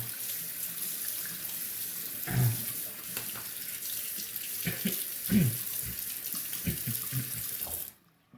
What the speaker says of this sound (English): I'm just gonna rinse it off real quick